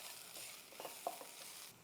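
Masala fries gently in a pan over low heat, a faint, soft sizzle with a few small pops and stirring scrapes.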